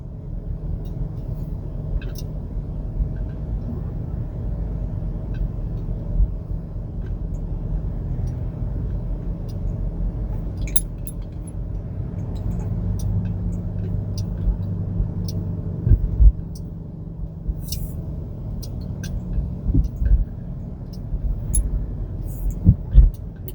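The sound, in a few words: car driving on a city street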